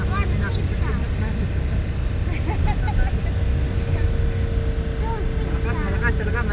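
A Rusco mini van's engine runs in a steady, loud drone heard from inside, with people talking over it throughout.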